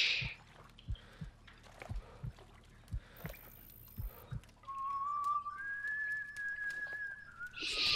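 In the shooter game Sniper Ghost Warrior 2, a person whistles a faint rising tune partway through, a thin tone over quiet ambience and a rhythm of soft dull thumps.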